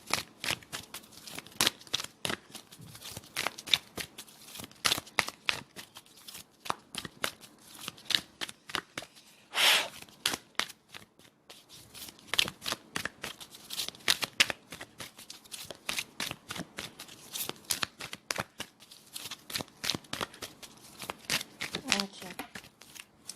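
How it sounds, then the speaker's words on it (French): Tarot cards are shuffled and drawn in a long run of quick crisp riffles and flicks, close and fairly quiet, with a voice talking softly at times. "je suis en train de tirer les cartes là"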